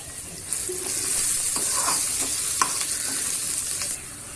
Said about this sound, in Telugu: ఆనియన్ గోల్డెన్ కలర్ వచ్చే వరకు ఫ్రై చేసుకోవాలి